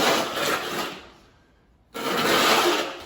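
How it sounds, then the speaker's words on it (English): A square notch trowel spreads tile mortar across a master bath floor for penny tile: a steady, gritty scraping that fades briefly, then returns loud and close. "I'm going to spread it out with my square notch trowel."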